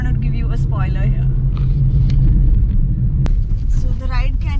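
A car rolls over a bumpy road in South Goa, its steady low engine and road rumble running throughout with a sharp knock near the middle, while people talk over it.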